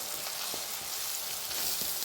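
Continuous crackling sizzle of spices frying in a hot pan with the gas off, for anchovy chilli curry, with a few light stirring scrapes and no talking.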